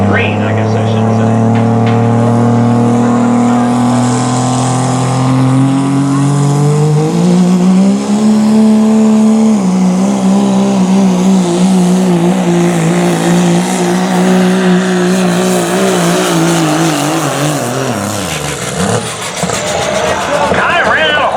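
A pulling truck at an Oak Harbor, Ohio truck and tractor pull roars loudly and continuously for the whole stretch, its engine pitch climbing and wavering as it strains down the track, then sagging near the end as it runs out of power.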